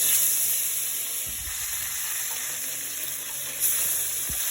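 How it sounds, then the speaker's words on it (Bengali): Poya fish sizzles in hot oil in a pan, a loud continuous hissing fry with a few soft bumps and a brief flare of spitting near the end. "তেলটা গরম হয়ে গিয়েছে, এখন আমি মাছ দিয়ে দিচ্ছি"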